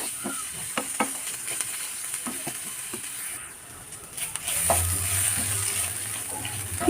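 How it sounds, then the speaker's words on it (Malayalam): Potato pieces sautéing in a pan for a pumpkin and potato mezhukkupuratti, with a soft sizzling hiss and scattered scraping stirs, the frying growing louder and fuller toward the end. "കുറച്ച് നേരം ഇതൊന്ന് വഴറ്റി കൊടുക്കുക"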